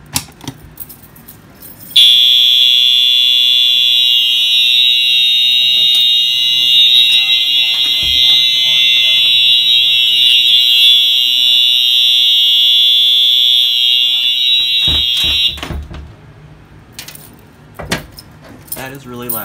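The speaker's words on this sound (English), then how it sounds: "I'm going to pull down the Firelight BG-12 and the EHS-DO1 will sound." EHS-DO1 fire alarm set off from a Firelight BG-12 pull station, a loud, steady, piercing electronic tone that holds for about thirteen seconds, then cuts out with brief handling noise and voices around it.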